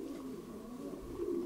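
Soft, low cooing of young pigeons murmurs steadily throughout, a bit louder toward the end, with no voices.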